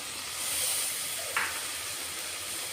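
Mixed vegetables and peas going into a hot pan for a light yellow khichdi, a soft steady sizzle and hiss with a brief sharp clink partway through, fairly quiet.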